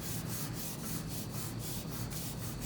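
A finger firmly rubs metallic vinyl decal onto transfer tape for a YETI Rambler tumbler, a steady close sanding-like friction with a quick repeating back-and-forth rhythm and no talking.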